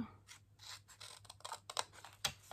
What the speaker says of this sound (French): Pour faire des petites découpes comme ça, un peu précises.